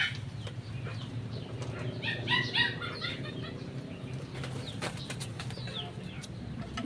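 Pigeons flapping their wings in a short burst amid coop background noise, with some soft clucking-like calls and faint chatter nearby.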